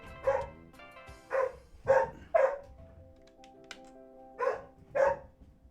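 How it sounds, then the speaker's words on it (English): A nearby dog barks six times in uneven bursts, loud and clear, with a faint steady tone lingering underneath and no talking. "Excuse the dog"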